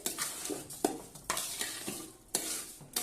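Food with salt added stirred in a pan, repeated scraping strokes with a soft sizzle underneath, several distinct sweeps close up and without voices.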